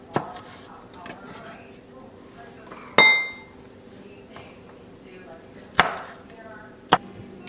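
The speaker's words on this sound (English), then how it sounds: "The green beans are going to kind of slice up like, kind of in an angle." A knife slices green beans at an angle for lumpia, giving a few sharp, isolated chops and clinks against the board beneath ongoing talk.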